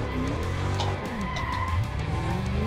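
A BMW E30 Touring drifts on a circuit after a handbrake pull, tyres skidding and squealing loudly over a continuous, close engine roar for the whole stretch.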